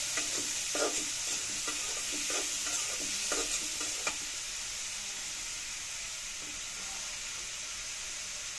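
Potatoes frying in a pan over a clay stove, a soft continuous sizzle with a run of scraping stirs early on that fade into a quiet steady hiss.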